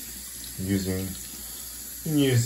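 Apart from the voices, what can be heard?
tap water running over doll hair while rinsing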